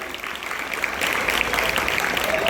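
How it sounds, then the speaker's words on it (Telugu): Students applaud at a school felicitation ceremony for village sarpanches, starting as light scattered clapping and swelling after a second into a dense, steady round of claps from a crowd nearby. "అధ్యక్షత వహించాల్సిన విద్యార్థులు చప్పట్లతో స్వాగతం పలకండి"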